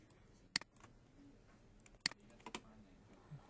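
Computer keyboard keys are pressed during 3D modelling work on a computer, giving a few sharp, distinct clicks spaced apart over a quiet room background, two of them notably crisp and close.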